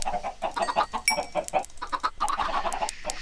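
Short, rapid clucks from a flock of video-game chickens come in quick succession, close and bright, overlapping in a busy irregular pattern.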